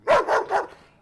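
A dog barks three times in quick succession, close and clear, with the last bark trailing off into quiet.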